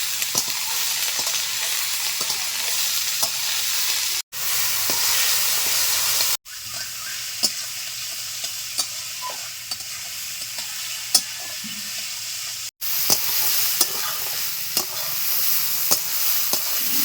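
Snake gourd frying with green chillies in a pan for a mustard curry, a steady close sizzle and hiss running throughout with occasional stirring scrapes and a few brief breaks.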